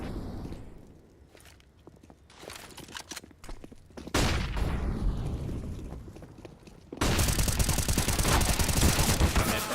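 Tech 9 pistol gunfire in a Counter-Strike match, with rapid bursts of shots and footsteps, growing denser and louder toward the end amid clattering action.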